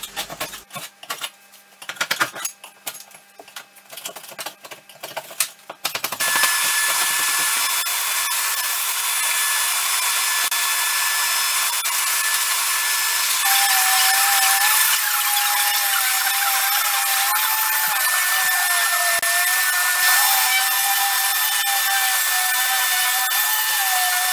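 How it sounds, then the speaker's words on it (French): Silicone sealant is scraped off a kitchen backsplash in short, irregular scratching strokes. A loud power sander then starts and runs continuously with a steady high whine and no talk. "j'ai gratté donc tous les silicones, j'ai poncé un coup"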